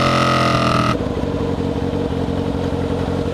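A motorcycle rides loudly, its steady engine drone dense and close for the whole stretch after a brief higher-pitched burst at the start, with no talking.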